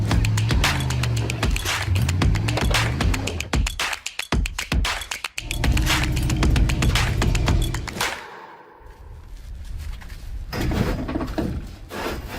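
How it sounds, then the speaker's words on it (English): Sawzall reciprocating saw biting through a vehicle's roll cage and cab, a loud, continuous rasping buzz with rapid stroke pulses that briefly stutters and drops away near the end. "I'm going to try and Sawzall my way through the entire cage and cab."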